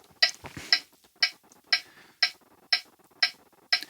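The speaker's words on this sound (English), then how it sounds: "we're going to be playing to a click track. It's going to be at 120 beats per minute" A metronome click from the Pro Metronome app on iOS ticks steadily at 120 beats per minute. About eight sharp, bright clicks fall evenly half a second apart, alone and close.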